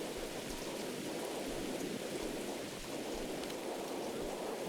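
Loud, steady rain pours down in the horror role-playing game Mothered, a dense, constant hiss filling the scene without a break and with no voices over it.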